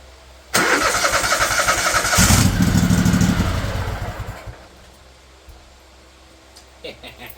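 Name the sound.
20hp Kohler engine cranking on Craftsman LT1000 mower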